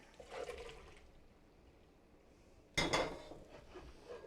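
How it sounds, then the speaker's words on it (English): Cooking water drained off boiled white, yellow-flesh potatoes from a pot, a faint brief pour, then a louder gush with clanks of cookware, quiet and close. "So we're going to drain the potatoes"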